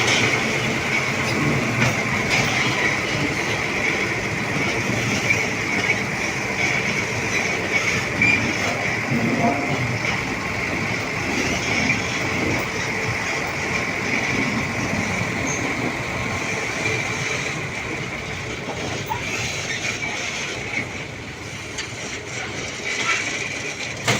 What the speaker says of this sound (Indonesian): rangkaian lori gula kosongan sudah dimasukkan ke jalur segitiga pembalik ini yang menuju ke arah selatan